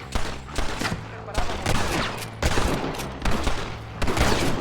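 Bursts of gunfire from a Western shootout in the video game Red Dead Redemption crack in rapid clusters and volleys, dense and continuous across the scene, with faint voices mixed in.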